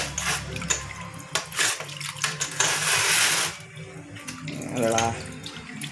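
Water runs and splashes from a tap as a fuel injection feed pump for a Bosch pump on a Panther 2.5 is soaked. The flow is steady and close, with brief speech over it.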